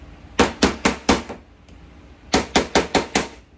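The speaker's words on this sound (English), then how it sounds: "put the flip plate on the top, turn it over, start whacking" Two quick bursts of sharp whacks on a bath bomb mold flip plate, four hits then five, evenly spaced, loud and close with brief gaps between.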